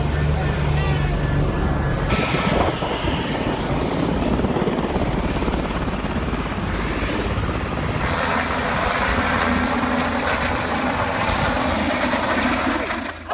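A helicopter at Carstensz Pyramid, Indonesia's tallest peak, thuds and whines loudly and steadily from close by for the whole stretch, with voices speaking over the rotor noise.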